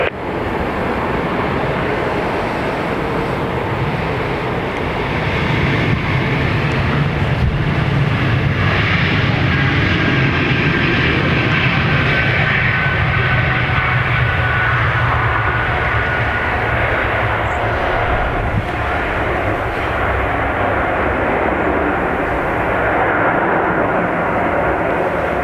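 At Dublin Airport, a jet airliner departing runway 10 right for Zurich gives a loud, sustained engine roar that swells and holds steady for the whole stretch, with no pauses.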